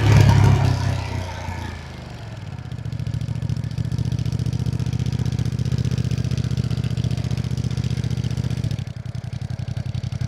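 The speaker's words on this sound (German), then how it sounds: "Der Motor ist leiser geworden, als ich von 1 in neutral gegangen bin." A 2025 Ducati Panigale V2S motorcycle engine revs, drops off, then settles into a steady, close, rumbling idle with a faint ticking clatter after being shifted from first gear into neutral.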